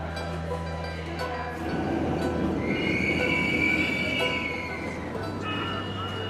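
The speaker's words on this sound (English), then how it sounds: "we decide to travel by metro to the center of the city" A metro train rides through a city, a steady rumbling rush of carriages with a long high wheel squeal rising in the middle, close and continuous, with faint voices beneath.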